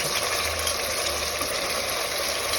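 Brinjal and potato pieces fry in a pan with a dense, continuous sizzle that holds steady and fairly loud throughout, with no talking.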